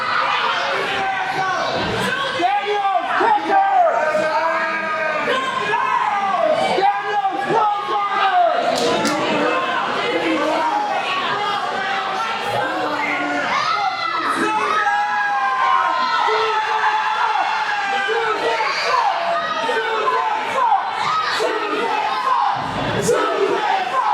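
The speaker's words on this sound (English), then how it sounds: "Very hostile reaction from this crowd" A hostile wrestling arena crowd in Phoenix jeers and shouts continuously, loud overlapping voices, whistles and chants swelling and falling throughout.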